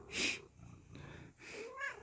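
A cat meows a few times up close, short high-pitched calls with brief pauses between them, no talking.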